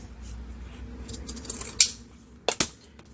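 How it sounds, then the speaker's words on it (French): Scissors snip through card a few times while a Christmas photo album is being made, giving quiet, sharp, separate cuts with short pauses between them and no voices. "Donc je vais couper."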